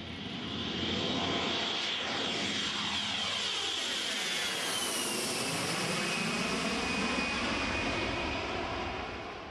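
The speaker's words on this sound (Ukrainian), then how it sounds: "Отрываемся, убираем шасси, выключаем фары и набираем высоту." An Antonov airplane takes off and climbs, its engines roaring loud and continuous throughout, with a high whine sweeping over the broad, steady thrust noise.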